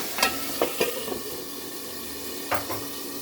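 Tomato being sautéed in a pan for a small fish curry: a soft continuous sizzle with a few sharp spatula taps and scrapes against the pan, clustered early and again near the end, close and moderately quiet.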